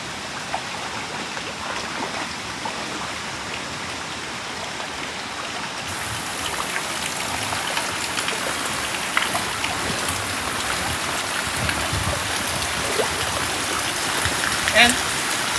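River water flowing through a double S bend in a reshaped channel makes a steady broadband rushing wash, constant and moderately loud throughout, with a few faint clicks near the end.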